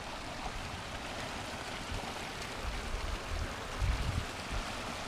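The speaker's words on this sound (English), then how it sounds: "And then you have to cross this creek." A creek along a Beaver Park trail flows in a steady, broadband wash of running water, continuous and fairly close, with a few slightly louder splashy moments near the end.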